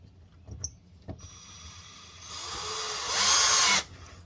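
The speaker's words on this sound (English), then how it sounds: "I'm going to take screws and put them right back in and mount this panel" A power drill drives screws back into a mounting panel, starting with a couple of short taps, then a whirring run that rises to a loud burst before stopping abruptly.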